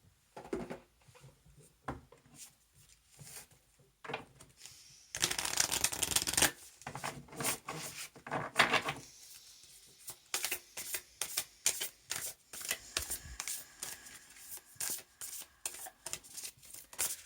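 Cards from the Starseed Oracle deck by Rebecca Campbell are shuffled by hand in quick, repeated riffling bursts, close and fairly quiet, with a louder flurry partway through and brief pauses between runs.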